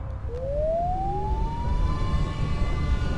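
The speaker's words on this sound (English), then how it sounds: "The sound of odd sirens penetrated my sleep." A single siren wails, its tone rising slowly and then holding in a long sustained note over a low rumbling background, fairly loud and without voices.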